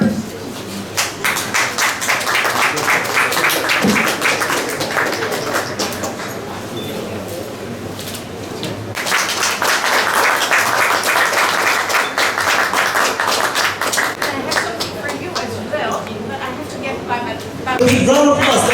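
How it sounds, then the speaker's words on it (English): Dense, sustained applause from a crowd fills the stretch, with a brief dip midway before the clapping swells again, voices mixed in underneath. "Big round of applause, ladies and gentlemen."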